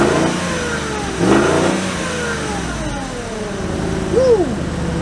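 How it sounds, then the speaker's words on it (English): A 2004 VW Touareg engine revs with its vacuum exhaust cutout valves closed: a steady mid-pitched drone that swells briefly twice, recorded close by outdoors with no one speaking. "this is normal sound with just with the valves closed"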